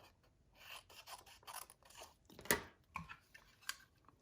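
Metal snips cut through material in a series of short, crisp snips and rasping scrapes, close and quiet with no talking.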